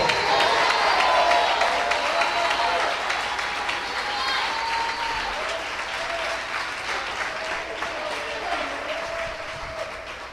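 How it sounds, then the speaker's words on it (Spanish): Church congregation applauding, a dense crowd of clapping that starts strong and slowly thins, with some voices and cheers underneath. "Esos aplausos están como obligados."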